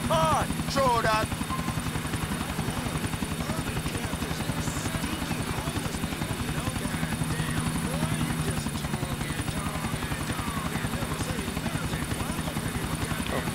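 A helicopter's rotor thumps steadily throughout with a low, continuous drone in the video game Grand Theft Auto IV, while voices talk over it.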